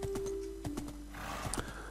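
A horse in the Minecraft video game gives a few hollow clip-clop hoof steps and a short whinny, clear and close, with no speech over them.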